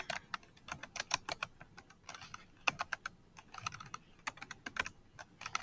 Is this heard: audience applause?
no